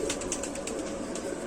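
An old, rare red-headed pigeon, a female, cooing close by in soft repeated pulses over a steady background hum, with no one speaking.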